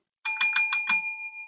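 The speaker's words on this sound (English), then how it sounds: "We're going to ring the bell." A bell rung five times in quick even succession, loud and close with bright metallic strikes, the final tone ringing on and slowly fading.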